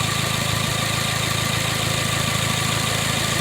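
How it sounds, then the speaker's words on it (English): A Kia Spectra engine idles steadily with a faulty oil pressure switch, a constant low hum and even mechanical rhythm, close by and unchanging throughout. "So right now the engine is on."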